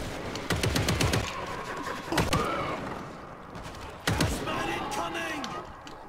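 Gunfire in the zombie shooter World War Z, with bursts of rapid automatic fire and single shots under excited talk from players.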